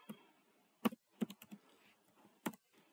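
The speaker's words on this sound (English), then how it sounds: "Inside this title tag, you will type Gilles" Keys clack on a computer keyboard as a title is typed in HTML, a quiet, irregular burst of close taps with short pauses between them.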